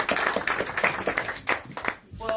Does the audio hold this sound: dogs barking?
no